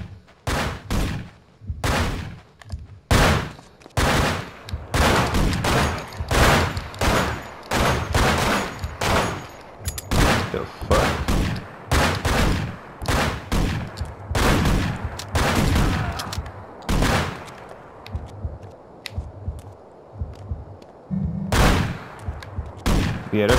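Police gunfire in the video game Manhunt comes as dense, repeated bursts of loud shots, a sustained fusillade with short gaps, up close and with no talk over it.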